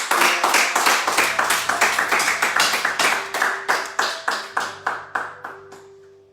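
A church congregation claps together in a fast, steady rhythm, loud and close, with sharp regular beats that slow and thin out toward the end.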